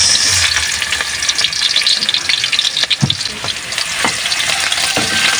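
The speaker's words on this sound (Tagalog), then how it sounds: "So igigisa na natin yung ricado natin. Lagay na natin yung unahin na itong bawang. Sama natin yung sibuyas." Garlic and onion sautéing in a hot pan for a Filipino dish, a loud, continuous close sizzle broken by scraping stirs and occasional clacks of a utensil against the pan.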